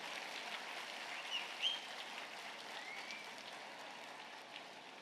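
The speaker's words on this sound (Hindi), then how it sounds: "एक बार उन सभी वालिदों के लिए भी एक बार जोर से ताली बजा दीजिए." A large audience at a formal talk on raising children claps for the parents, a faint, steady wash of applause held evenly from a distance without a break.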